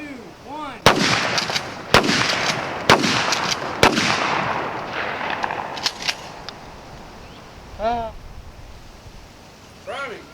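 A Mossberg 835 12 gauge shotgun fires outdoors in a row of sharp, loud blasts roughly a second apart, each ringing out briefly, followed by quieter scattered pops and faint chirping in the background.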